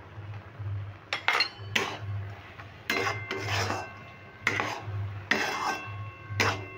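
A spoon scrapes and clinks repeatedly against a pan while chana dal motichur laddu mixture with melon seeds is stirred, rhythmic strokes about once a second over a low steady hum, with no talking.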